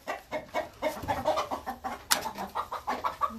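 Chickens on a farm clucking steadily nearby, a run of short rhythmic clucks and squawks with one sharper cry partway through, moderately quiet and with no talking.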